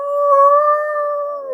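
A person imitates a dog's howl with the voice, one sustained, smooth tone that holds steady and sags slightly at the end, loud and alone.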